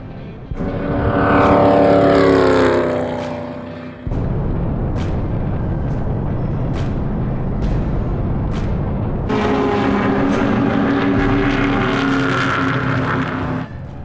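A Dodge race car drives on a track, its loud engine roaring and rising in pitch under acceleration, cutting off sharply near four seconds before resuming with a steady drone and another climbing pull.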